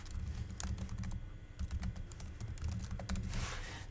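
Steady run of quick keystrokes on a computer keyboard while a URL is typed, close and fairly loud, with no talking.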